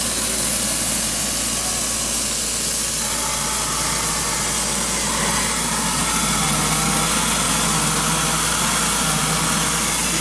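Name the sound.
QuikSpray concrete pump running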